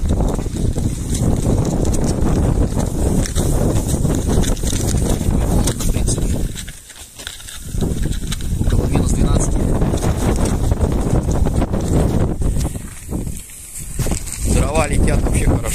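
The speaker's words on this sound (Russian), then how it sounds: "Ветер порывистый." Strong, gusty winter wind blowing outdoors near a chicken coop, roaring continuously and buffeting the microphone, briefly easing twice before surging back.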